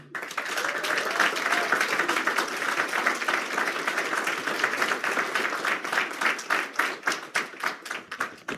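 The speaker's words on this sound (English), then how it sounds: "give you a round of applause to Luis Santiago" Applause from a graduation audience welcoming a guest speaker, a steady dense wash of clapping that thins toward the end into fewer, more distinct claps.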